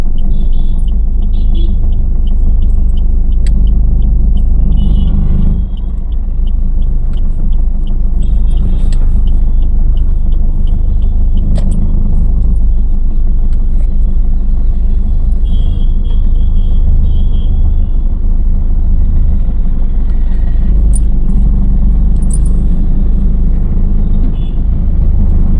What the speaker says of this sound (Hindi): गलत जा रही गाड़ी।